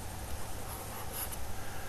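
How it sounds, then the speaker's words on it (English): A pen scratches across paper while writing a number down, a continuous soft scribbling rub over a faint steady hum, close and quiet throughout. "let's see if we can write it down"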